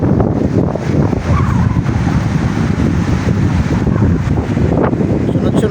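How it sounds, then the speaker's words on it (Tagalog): Strong wind roars steadily across the microphone, with a rumbling, gusty texture and a wash of surf or water in the background. "Napakaganda ng yung hangin."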